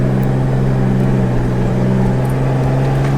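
A Nissan Patrol 4WD drives through sand, a loud, steady engine drone with a strong low hum holding even from start to finish, close and continuous, with no voices.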